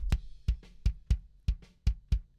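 Isolated drum hits ring out one after another in a steady, punchy rhythm, dry and close, with short decays between strikes.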